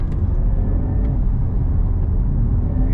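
Synthetic drive sound of a 2022 Porsche Taycan GTS electric car under way, a steady low hum and rumble holding at even loudness throughout, close and alone.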